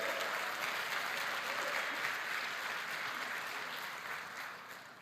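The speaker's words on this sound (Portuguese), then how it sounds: "Você pode dar um aplauso a Ele por isso?" Steady applause from a large church congregation, sustained and even, slowly fading toward the end.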